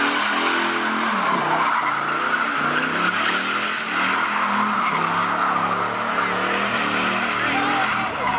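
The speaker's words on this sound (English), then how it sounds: "This guy's doing a burnout inside a parking lot with cars stacked on both sides." A Camaro SS doing a burnout in a parking lot between rows of parked cars, with loud continuous tire squeal and a roaring, revving engine that sustains steadily throughout, close by.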